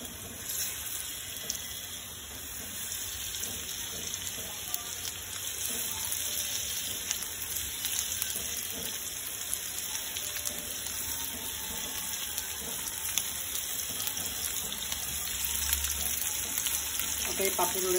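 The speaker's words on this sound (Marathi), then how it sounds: "आता थोडेसे पॉपलेट होते ते पण आता फ्राय करून घेते." Pomfret fish frying in a pan, a steady crackling sizzle of hot oil that runs throughout at close range, with no talk over it.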